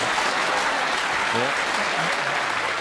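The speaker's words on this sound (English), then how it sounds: "Appreciation shown by the crowd." Crowd applauding at a snooker World Championship match, a dense, steady wash of clapping from a large audience, with a brief voice calling out over it.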